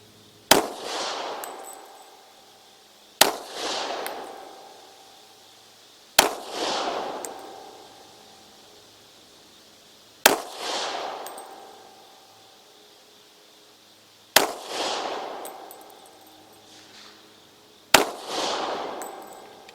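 Six loud, sharp gunshots from a Glock 27 compact pistol chambered in .40 S&W, spaced a few seconds apart, each a crisp crack followed by a short decaying echo, with no talking.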